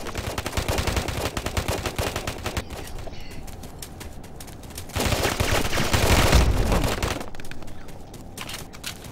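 Rapid automatic gunfire rattles continuously in an online shooter match, loud and close with bursts overlapping, swelling louder midway before easing off.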